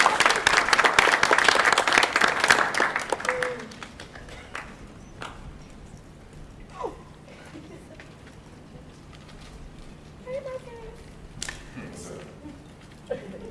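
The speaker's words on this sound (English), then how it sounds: "So please clap it up for Mr. Martez." An audience at a university morning session claps for a guest, loud and dense for about three seconds before fading to scattered claps, shuffling and faint room noise.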